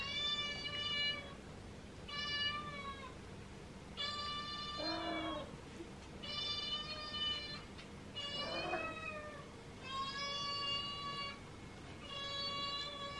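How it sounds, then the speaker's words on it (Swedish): A cat meows over and over, about seven clear, drawn-out calls spaced a second or two apart, each close and fairly loud against a low, steady background. "Det där är en katt."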